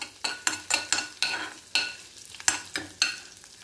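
Cinnamon and spices sauté in butter in a pan as a side dish for chapati, with a soft sizzle under a rapid series of close scraping and stirring strokes. No one speaks.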